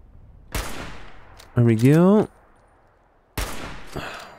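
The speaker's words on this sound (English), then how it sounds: "We can still sneak a couple of gunshots onto those guys" Two sharp, loud gunshots in Fallout 4, a few seconds apart, with someone briefly speaking between them.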